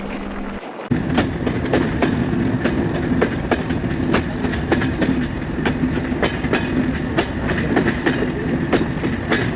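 Intercity Rupsha Express passenger train rolling on rails near Noapara railway station, a steady loud rumble with a regular clickety-clack of wheels over rail joints throughout, no talk.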